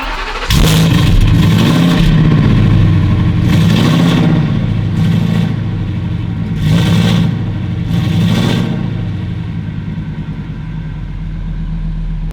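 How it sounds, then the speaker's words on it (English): A big Class C overlanding motorhome engine cranks over and starts, then revs in a few loud, swelling bursts close to the exhaust before settling into a rumbling idle. "I'm gonna make Austin put the microphone right by that exhaust. I want you guys to hear this thing."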